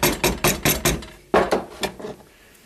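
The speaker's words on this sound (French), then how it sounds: "Un petit martelet ici, là, c'est un petit marteau en plastique." A small plastic mallet taps in quick, sharp, evenly spaced knocks, about a dozen strikes in two bursts with a brief pause between, close and fairly loud.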